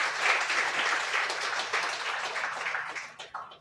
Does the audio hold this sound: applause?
yes